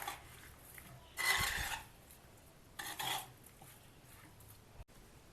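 Spoon scraping through paneer tikka marinade with kasuri methi in a bowl, two short bursts of stirring and clinking separated by quiet pauses, fairly close.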